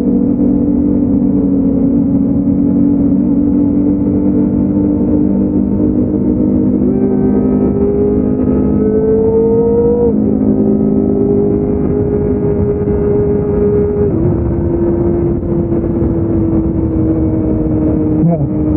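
A Kawasaki Ninja ZX-25R motorcycle with a quick shifter is ridden on an open road at night; a loud, continuous high-revving engine note climbs in pitch and drops at quick gear changes, with wind rush throughout.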